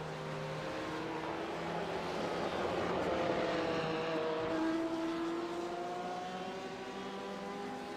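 Racing motorcycles, including a BMW and one in Rothmans livery, scream past on a GP race track. Their high engine notes rise and fall as they sweep by at moderate distance, and no one talks.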